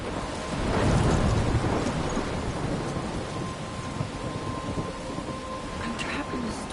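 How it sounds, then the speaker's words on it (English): Thunderstorm in the video game Life is Strange: steady heavy rain with a deep rolling thunder swell near the start and faint crackles later, continuous and enveloping. "I'm trapped in a storm?"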